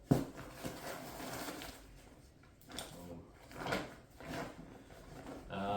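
An ultralight hiking backpack is opened, with a sharp snap at the start followed by repeated rustling and scraping swells of fabric and zipper as the pack is pulled open close by.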